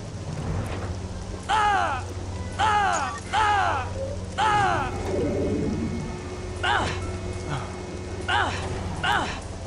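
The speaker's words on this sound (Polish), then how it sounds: "It's good to get out of that rain." Steady rain falls in the Star Wars: Jedi Academy video game, a constant hiss beneath music and game effects, with voices talking over it at intervals.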